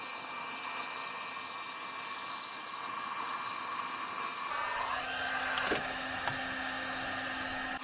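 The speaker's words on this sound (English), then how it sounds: "it can run a high-powered heat gun like this for an hour" A high-powered heat gun warms the carburetor of a D8 dozer with a steady, close, hair-dryer-like blowing hiss. Its tone shifts slightly midway while the airflow stays continuous.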